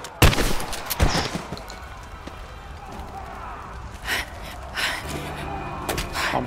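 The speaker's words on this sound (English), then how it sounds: "Pump action shotgun" Pump-action shotgun fire in the game Rise of the Tomb Raider: a few sharp, loud blasts spaced out over a background of game ambience, with some voices breathing and gasping.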